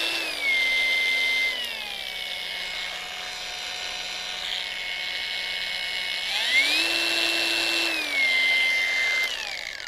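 A Procraft PA 18 LI PRO cordless drill runs continuously and shifts between speeds, its whine stepping down in pitch and later rising again before dropping back, close and steady with no talk.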